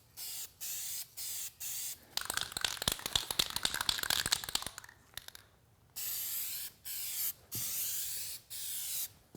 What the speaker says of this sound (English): And also give a test spray.